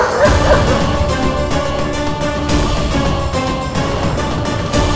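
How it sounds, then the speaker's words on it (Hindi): A dog barks repeatedly and loudly close by, a rapid run of yips and woofs with a few whimpering notes, set in a television drama scene. "भौंक इसलिए रहा है क्योंकि ये भेड़िया नहीं कुत्ता है।"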